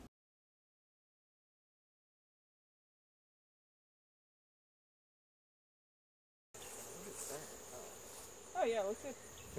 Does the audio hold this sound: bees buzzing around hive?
yes